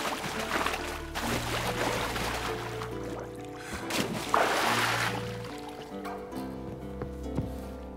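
A rowboat moves across water in The Witcher 3, with soft sloshing and dipping splashes under a steady sustained musical score that runs throughout.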